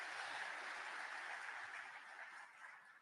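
Audience clapping at an annual corporate shareholder meeting, a broad, steady wash of many hands that sounds fairly distant and soft, fading slightly toward the end.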